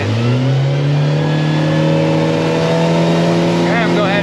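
A Yamaha 90 outboard on a 2015 Smokercraft Phantom 182 accelerates hard with the trim all the way down, its loud engine rising steadily in pitch, with a voice heard near the end.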